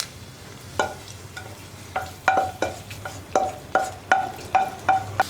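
A spoon scrapes rhythmically through sardine curry in a pan just after fried tempering with dried red chillies is added off the flame: about a dozen close, even strokes with a faint sizzle beneath.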